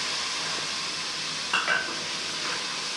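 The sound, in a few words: spices added to frying garlic and ginger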